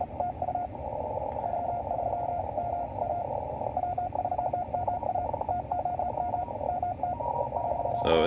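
Morse code on an amateur radio band beeps as a fast, steady tone of short and long pulses, around 28 to 30 words per minute, over a hissy, noisy receiver background.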